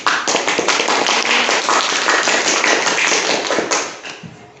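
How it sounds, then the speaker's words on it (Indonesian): A class audience claps steadily for several seconds, dense and close, then the applause tapers off toward the end. "Beri aplaus."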